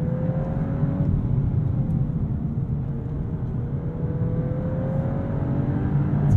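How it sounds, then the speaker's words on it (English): Turbocharged four-cylinder of a 2023 VW Golf R with manual gearbox, droning steadily under load from inside the cabin, with a rising engine tone that drops after a shift and climbs again, constant and fairly loud throughout. "I like hearing more of that Turbo 4 as well."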